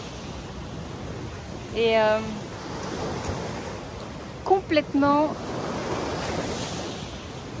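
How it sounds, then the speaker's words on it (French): Sea waves on the Costa Brava wash in a steady, broad hiss of surf mixed with some wind noise, while people speak briefly over the continuous roar of the water. "Je pourrais passer des heures à regarder les vagues là."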